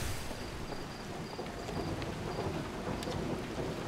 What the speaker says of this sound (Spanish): digo yo que es esta tormenta que está sonando